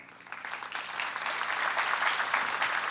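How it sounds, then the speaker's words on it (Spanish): Audience at a university campus inauguration in Rosario applauding in tribute to a recently deceased colleague, steady dense clapping that swells slightly and continues throughout. "pedir un gran aplauso para Aldo Gimbatti"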